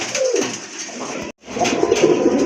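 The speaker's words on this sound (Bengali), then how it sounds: "আরেকটা পেয়ার কবুতর দেখতে পাচ্ছেন" A pair of pigeons offered for sale coo in throaty, repeated rolls up close, the calls continuing after a momentary gap, with no talking.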